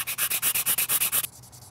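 A 3D-printed sword is sanded with 220-grit sandpaper in a rapid, even series of about a dozen close back-and-forth rasping strokes, each a gritty swish, before the rubbing stops and only faint room noise remains.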